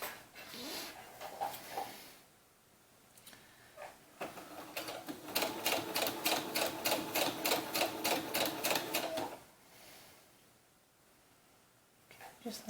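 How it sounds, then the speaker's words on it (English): Sewing machine stitching the crotch seam of short doll knickers, a rapid rhythmic mechanical run of several seconds in the middle, with quieter handling sounds and brief talk before and after. "And I'm going to sew right in the center."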